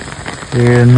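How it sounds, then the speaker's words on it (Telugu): Heavy rain falls in a dense, steady patter, with a loud droning hum cutting in halfway through the brief moment. "వర్షం అయితే భారీ పడ్డది"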